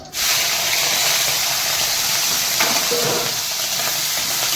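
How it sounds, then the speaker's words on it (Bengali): Boiled snails being fried in hot oil in a pan, a loud, steady hiss and sizzle that starts abruptly and continues without a break, close up. "তেল গরম হয়ে গেছে লেডিগুলো ভাজবো"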